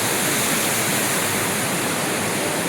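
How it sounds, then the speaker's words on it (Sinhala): Loud, dense roar of a waterfall running beneath a wooden bridge built across the falls on the Olu Ella road, a constant close-up rush without voices. "ඇල්ල මැදින් තමයි මේ පාලම සකස් වෙලා තියෙන්නේ"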